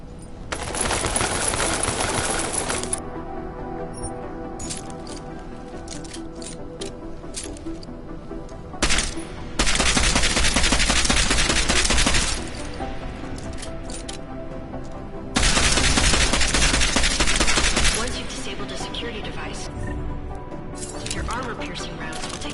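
Gunfire in the Deus Ex video game: three long, loud bursts of rapid shots aimed at security devices, separated by quieter stretches with a voice talking.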